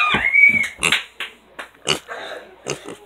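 Pet pig grunting and squealing in short bursts at a party, with a high squeal early on and scattered snorts and grunts, close and fairly loud.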